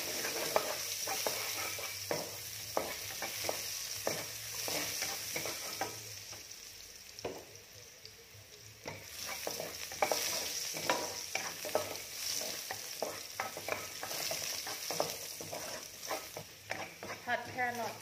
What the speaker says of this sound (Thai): ผัดแครอทให้ค่อนข้างสุกนะคะ